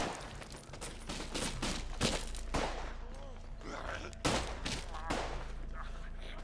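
Gunshots ring out in the zombie video game Contagion, several sharp loud blasts spaced irregularly, with someone talking between and over them.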